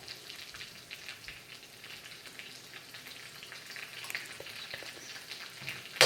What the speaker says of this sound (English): and now I'm adding the jalapenos